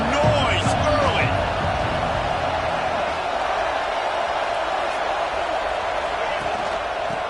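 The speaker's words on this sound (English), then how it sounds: "This crowd bringing the energy and noise early." Crowd noise fills a stadium at a college football game, a broad continuous roar with occasional sharper peaks, steady and loud from start to finish.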